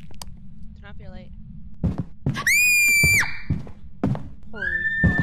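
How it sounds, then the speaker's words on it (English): A woman playing the horror game Phasmophobia lets out a piercing, sustained shriek of fright. Short thumps, game noises and other voices come before and after it. "I've never screamed so loud."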